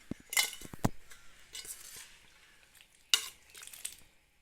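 Soaked poha being stirred with a spoon after the cooked tempering is added, giving a few close scraping, clinking strokes against the pan with quiet gaps between them.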